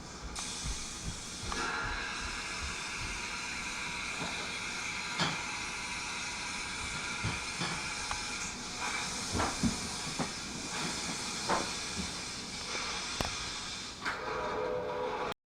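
Freight train with empty and loaded hoppers and a caboose rolls past, a loud continuous rumble and hiss of wheels and cars on rail, with periodic clanks from car joints throughout.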